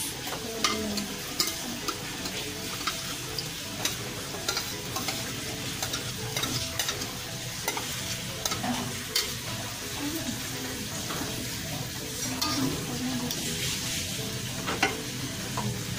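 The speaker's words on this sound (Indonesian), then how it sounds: "sekarang akan dimasukkan sayuran-sayurannya yang pertama yaitu brokoli daun bawang buncis buncis" Broccoli, spring onion and green beans stirred into a pot of water for a toddler's meal, with repeated clinks and scrapes of a spoon against the pot over bubbling and sloshing, close up.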